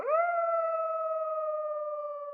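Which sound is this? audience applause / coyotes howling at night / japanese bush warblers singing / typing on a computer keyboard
coyotes howling at night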